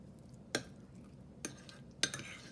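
Sliced honey ham cut into small pieces being mixed in a bowl, with three separate clinks and scrapes of a utensil against the bowl, spaced over a couple of seconds against quiet background.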